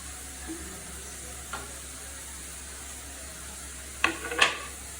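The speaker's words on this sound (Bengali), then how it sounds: "সব কয়টা মশলা ভালো করে কষিয়ে দিব" Spices with turmeric and salt sauté in a pan with a steady low sizzle, broken by a few sharp spatula scrapes and knocks near the end.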